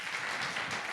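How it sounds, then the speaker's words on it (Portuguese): Church congregation clapping during a service, a dense, steady wash of many hands applauding in a large room, with no voices over it. "peço uma salva de palmas."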